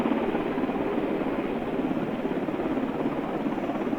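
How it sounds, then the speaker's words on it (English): A helicopter's rotor beats with a steady, loud, continuous throbbing drone that holds the whole time with no talking over it. "these helicopters now look real"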